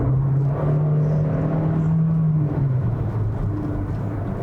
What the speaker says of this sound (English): Is this a CVT that I'm driving?